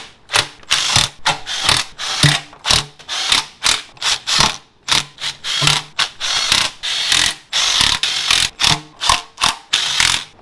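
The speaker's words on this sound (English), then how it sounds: "Now I just gotta torque them all up." A hand ratchet clicks loudly and close by as bolts on a Model A gasser rat rod are torqued down, in repeated quick bursts of ratcheting with brief pauses between strokes.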